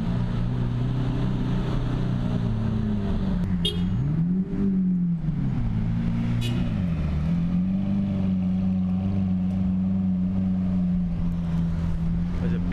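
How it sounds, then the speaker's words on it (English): A car drives by outdoors beneath a steady engine and wind drone, its pitch rising and falling as it passes, with no talking. "There's a beastie car."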